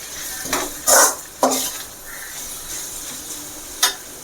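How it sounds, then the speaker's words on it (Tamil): Cluster beans and egg stir-fry scraped and stirred in a pan after salting, a few sharp clanks of a spoon against metal over a soft, steady sizzle, with no talking. "உப்பு போட்டு நல்லா கலந்து விடுங்க"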